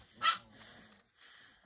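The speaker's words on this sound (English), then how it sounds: "That's the Chihuahua. She does not like the other dog to get near her." A Chihuahua gives a single sharp, high yip bark close by, followed by faint quieter whimpering sounds in an otherwise hushed room.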